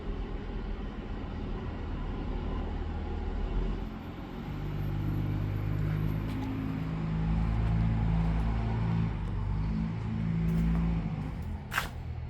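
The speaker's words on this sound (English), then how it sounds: "There's a lot of diesels that are passing." Diesel trucks pass by outside, a steady low engine rumble that swells and fades over the whole stretch, with a brief sharp knock near the end.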